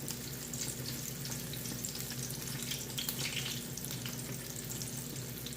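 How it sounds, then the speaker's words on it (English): Apple fritters fry in hot oil with a steady, close sizzle and crackle. It continues evenly throughout with no talking. "going to cook these till they're just golden brown"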